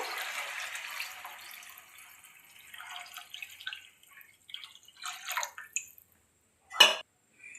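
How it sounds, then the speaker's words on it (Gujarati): Water poured into a pot of Gujarati panchvati vaghareli khichdi with mixed dal, heard as soft intermittent splashes and drips, close and fairly quiet, with no talking. "આપણે પાણી નાખશું."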